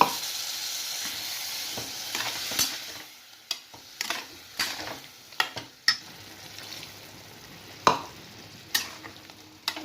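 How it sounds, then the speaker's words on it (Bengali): Eggplant masala sizzling in a frying pan after water is added, with a utensil stirring and scraping in repeated sharp strokes over a steady close sizzle. "আঁচটা কমে আমি একটু নাড়াচাড়া করে দিচ্ছি জলটা দিয়ে দিলাম"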